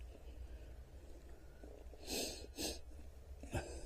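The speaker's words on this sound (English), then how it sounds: "you can hear me sniffling a bit because I've got a bit of the sniffles" A person with a cold sniffles outdoors on a footpath: a few short, sharp sniffs come in quick succession over quiet background noise.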